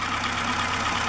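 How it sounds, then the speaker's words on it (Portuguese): A Lada car engine running steadily at idle, heard close with a broad, even hiss and a low hum and no voices. "Olha o motor do Lada."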